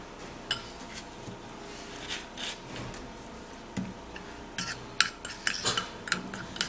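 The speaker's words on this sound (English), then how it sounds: "And then we're going to give it a stir." A utensil stirring baking soda in a bowl, with light scraping and irregular clinks and taps of metal against the dish, close and fairly quiet, without speech.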